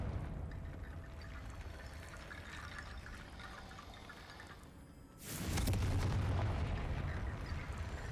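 A Confringo blasting spell in Hogwarts Legacy goes off partway through, a sudden loud broadband explosion whose roar sustains to the end over a steady rumbling game soundscape, with no talk.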